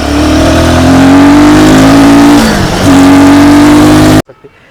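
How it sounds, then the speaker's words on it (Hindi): A 2024 Royal Enfield Guerrilla 450 motorcycle accelerating in second gear past about 3000 rpm, its engine note loud and close, rising steadily, dipping briefly, then climbing again before cutting off abruptly. "दूसरा गियर मैंने लगाया और जैसे 3000 के आसपास आरपीएम के बाद देखो अब,"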